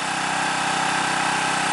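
A Predator 212cc Honda-clone small gasoline engine runs steadily up close, a loud continuous buzzing drone with a rapid, even firing pulse and no pauses.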